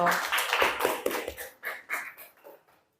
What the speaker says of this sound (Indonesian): Kita kasih aplaus lagi kelompok 1